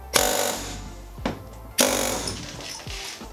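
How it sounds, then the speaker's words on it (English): An air hammer with a punch attachment strikes bus wall rivets in loud, harsh bursts, two long rattling blasts separated by a brief pause and followed by a shorter one, close and metallic. "I come in with the air hammer with a punch attachment"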